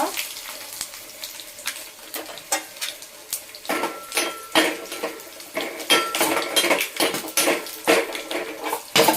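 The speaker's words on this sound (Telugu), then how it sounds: "ఇలాగే ఎల్లుల్లిపాయలు తొక్కతో ఇలా కొట్టేసుకుంటే బాగుంటుంది అన్నమాట." Garlic cloves in their skins being crushed in a kitchen while tempering for tomato chutney, a rapid series of sharp knocks and clatters against metal and cookware, fairly close.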